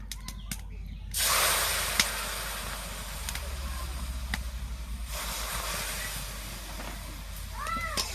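Milk poured into a hot pan of fried flour (maida) and semolina for a Bengali sweet, a loud sizzling hiss that bursts up suddenly and then settles into a steady, crackling fry close by.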